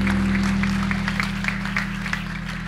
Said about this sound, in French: on peut quand même l'applaudir, s'il vous plaît